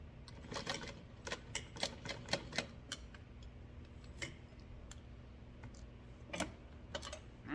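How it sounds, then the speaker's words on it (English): A sewing machine stitches two straight lines across the folded edge of a fabric crossbody strap, giving a rapid run of mechanical needle ticks in bursts with brief pauses, close and moderately loud over a low steady motor hum. "I am going to sew 2 straight lines across"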